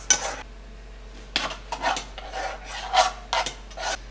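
Cheese sauce stirred in a pot, a spoon scraping and rasping against the metal in repeated short strokes, close and fairly loud.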